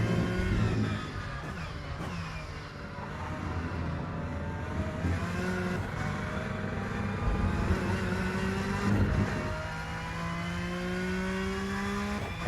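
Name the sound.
rear-engined race car traction control working, Rennsport video game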